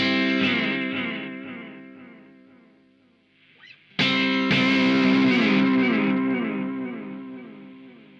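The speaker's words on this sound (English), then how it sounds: "you can really get some distorted tones by cranking up the input into the pedal" A heavily distorted electric guitar through a Universal Audio Starlight effects pedal with the input gain cranked rings out in sustained chords, fading away before a sharp new strum cuts in loudly and holds.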